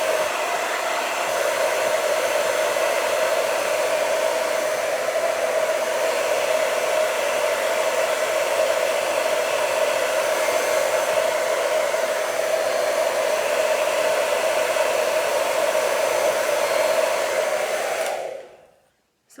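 A hair dryer with a diffuser blows steadily on curly hair, a loud constant whoosh with a droning hum that runs without a break, then cuts off abruptly at the end.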